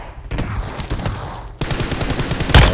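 Rapid bursts of hip-fire automatic gunfire from a mobile shooter game played on an iPhone XR, two dense volleys of close, loud shots separated by a brief gap, with no talk over them.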